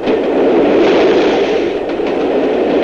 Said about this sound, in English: Within seconds, the train will pass.